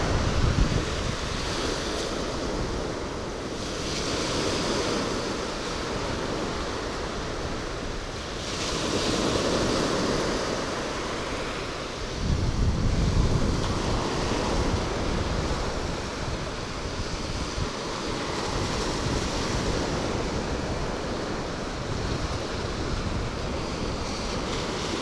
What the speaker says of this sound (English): the wind's kind of blowing this direction right here